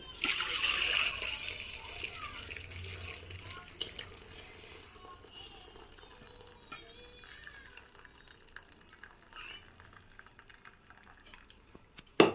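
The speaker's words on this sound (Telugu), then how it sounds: "ఈ వాటర్ మొత్తం వంచేసేయాలి" Water is tipped out of a pot of boiled fish in a splashing gush at first, followed by softer trickling and dripping, with faint clatter nearby.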